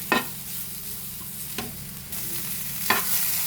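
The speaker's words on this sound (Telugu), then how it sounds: "ఇందులో కొబ్బరి వేగిన తర్వాత ముక్కలు వేసేసుకొని కొంచెం వేగనిచ్చి 2 మినిట్స్ దగ్గర కొంచెం వేగనివ్వాలి, కలుపుతూ ఉండాలి." Grated coconut and carrot pieces fry in a pan under a steady sizzle, with three distinct spatula scrapes as the mixture is stirred.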